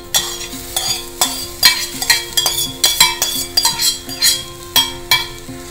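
Cooked beetroot being stirred in a frying pan with salt for beetroot chops, a spoon scraping and tapping the pan in a steady repeated rhythm over a soft sizzle, close and clear with no voices.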